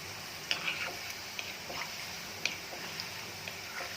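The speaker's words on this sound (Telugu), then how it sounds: "గోల్డెన్ బ్రౌన్ కలర్ వచ్చేంత వరకు వేయించుకోవాలి." Sankranti sweets frying in oil until golden brown: a soft, steady sizzle with sparse light crackles and ticks, faint and heard alone.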